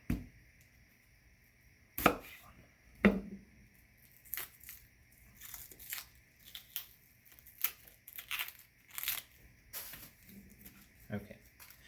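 Onions being chopped with a knife on a board: a handful of sharp, irregular cuts spaced a second or so apart, close and fairly quiet, with a voice faintly present.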